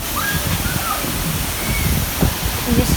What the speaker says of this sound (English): And I can hear all the water.